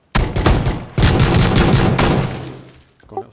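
Loud, close gunfire from an AK rifle in a video game, two dense bursts of rapid shots that break off abruptly, followed by a brief quieter clatter.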